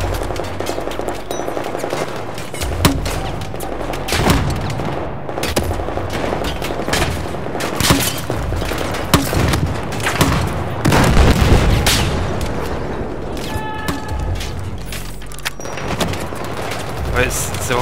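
Battlefield 4 gunfire on a Singapore mission rattles in dense bursts and sharp single booms, loud and close, with explosions and a long-range weapon firing repeatedly while voices talk intermittently over the game.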